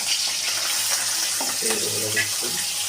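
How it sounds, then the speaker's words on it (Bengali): Prawns hitting hot oil in a wok give a steady sizzle and hiss throughout, with a few brief bubbling spurts near the end and no talking. "তেল গরম হচ্ছে, ফুটছে, চিংড়ি দিয়ে দেওয়া হচ্ছে"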